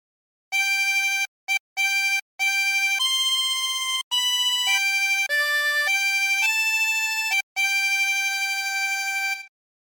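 Harmonica playing a phrase of the hymn Holy Holy Holy Lord God Almighty: a run of loud, sustained, reedy single notes, several short separated tones followed by longer held pitches that step up and down, with no talking.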